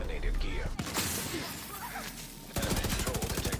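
Gunfire in The Division during a player-versus-player fight, a dense loud burst of shots and impacts running through, followed by rapid regular shots near the end, with voices talking over it.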